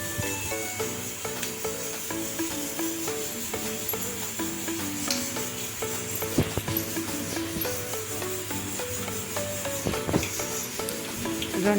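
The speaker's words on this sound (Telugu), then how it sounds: "స్టఫ్ చేసుకున్న మిరపకాయలని పిండిలో ఈ విధంగా ముంచి నూనె తాగినాక దాంట్లో వేసి అటు ఇటు తిప్పుకుంటూ ఒక 2 నిమిషాలు" Tamarind-stuffed green chillies dipped in batter fry in hot oil for mirchi bajji, a steady sizzle and hiss under occasional stirring and scraping in the pan, with no talking.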